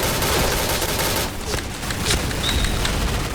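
Dense, continuous gunfire in the shooter game Point Blank: loud, rapid bursts of shots and booms blend into a steady barrage with no pauses.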